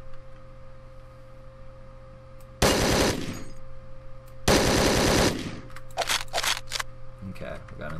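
Two loud, close shotgun blasts ring out in Hotline Miami, each with a short decaying tail. A few sharper clicks follow over a steady low background hum. Speech is faint or absent.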